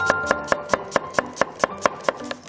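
A knife chopping an onion on a cutting board, about a dozen crisp, evenly spaced cuts in a quick steady rhythm, close and clear with no talking.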